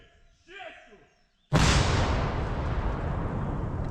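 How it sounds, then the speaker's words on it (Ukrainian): Artillery cannon fires in a current war: after a quiet moment with faint sounds, one sharp, loud boom hits and rolls into a long fading rumble. "Вона хороша така пушка. Вона ще дає жару в нашій сучасній війні."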